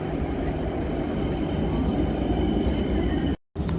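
Tram number 7 in Jamaica-themed livery arriving on a Helsinki–Espoo line, a loud, steady rumble and hiss of rails and motors filling the whole span, briefly cut off near the end.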